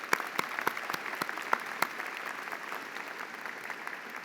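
Applause for a university chancellor at a graduation convocation ceremony, a steady wash of clapping from a seated audience with a few sharp, louder claps standing out near the start.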